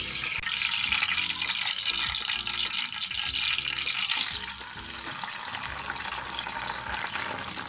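Bitter gourd pieces fry in a pan of hot oil for a pickle, giving a loud, steady, close bubbling sizzle that continues without a break and eases slightly toward the end.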